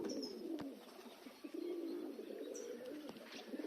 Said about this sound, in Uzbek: 100 ta kaptarga illaydi.